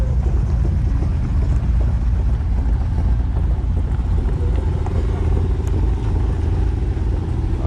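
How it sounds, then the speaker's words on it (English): Roadside traffic noise stays loud and steady throughout, a continuous roar of cars going by, heavily buffeted by wind across the microphone, with no voices. "Oh, watch the cars go by."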